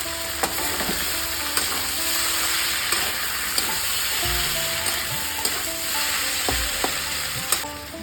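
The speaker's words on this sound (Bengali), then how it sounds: "এটা একটু কষিয়ে নিতে হবে লঙ্কা বাটাটা" Green chili paste fries in a pan for a chichinga posto dish, with a loud, steady sizzle and periodic knocks and scrapes of a spoon stirring, and no voices.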